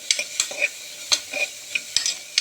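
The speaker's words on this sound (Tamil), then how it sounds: "அந்த வெங்காயத்தை நல்லா வணக்கி விடுங்க அது கொஞ்சம் ஃப்ரை ஆகணும்" Onions sautéing in a pan for an Erode-style greens dish, with a steady sizzle punctuated by repeated scraping stirs of a spatula, close and alone without any talk.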